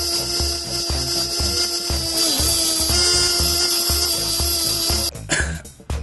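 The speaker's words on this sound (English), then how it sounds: "I did get a little tired of the belt sanding" A belt sander drones steadily on wood with a rhythmic thumping beat, then cuts off and leaves a few clattering handling noises.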